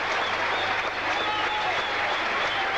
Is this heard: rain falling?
no